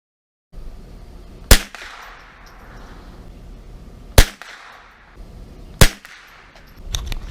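A rifle fitted with an $8 Walmart scope fires at a 50-yard target. Three sharp, loud shots are spaced a few seconds apart over outdoor background noise.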